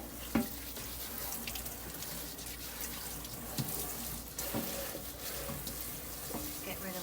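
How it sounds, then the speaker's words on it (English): Beans are rinsed under a running kitchen tap while making pesto minestrone soup: a steady, fairly quiet stream of water splashes continuously, with occasional sharper clinks and splatters of the beans and container. "Now let me go ahead and rinse my beans."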